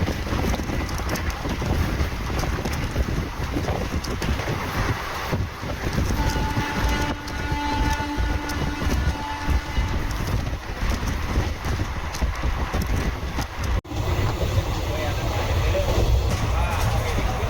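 Continuous rumble and rattle of the Yelagiri Express passenger train between Chennai Central and Jolarpettai, heard from inside a carriage, with clattering wheels and a brief tonal whine mid-way.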